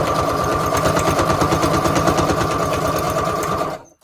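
Sewing machine running a standard zigzag stitch on a small paper Christmas embellishment for a junk journal, loud, close and rapid, with a steady rhythmic clatter for nearly four seconds before it stops abruptly.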